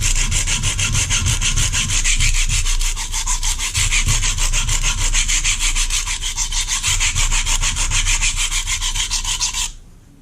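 A kitchen knife is sharpened by hand on a stone outdoors in a backyard, giving steady, rapid back-and-forth rasping strokes, loud and close, running continuously before stopping abruptly near the end.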